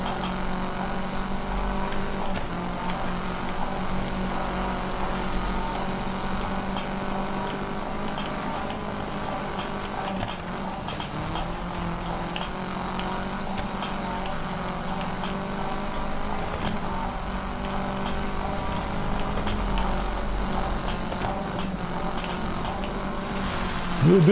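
A racing car's engine drones steadily and loudly as it accelerates flat out on a coastal mountain course in the PS4 racing game Gravel, a continuous roar with no break throughout.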